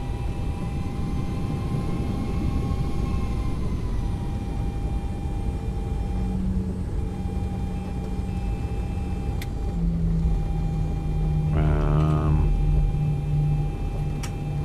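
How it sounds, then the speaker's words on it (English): Boeing 737 engines in the X-Plane 11 flight simulator spooling up during taxi, a steady, moderately loud turbine whine and rumble with rising tones late in the run, no voices. "Let's open up the throttles a bit and get us going."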